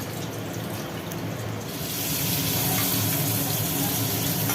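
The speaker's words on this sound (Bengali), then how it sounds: "এদিকে ভাত হচ্ছে আর এদিকে পটল ভাজা হচ্ছে" Pointed gourd pieces frying in a pan for a vegetarian Bengali meal, a dense steady sizzle that swells louder partway through and holds unbroken.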